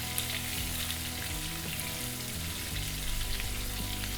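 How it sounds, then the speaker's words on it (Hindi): Chopped onions, garlic, ginger and green chilli fry in a hot pan for mix veg pakoda, giving a steady, close sizzle that crackles evenly throughout with no talking. "अब डाल देंगे अनियंस, लहसुन, अदरक, हरी मिर्च। 2-3 मिनट के लिए इनको भूनेंगे।"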